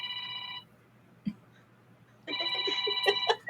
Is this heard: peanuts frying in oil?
no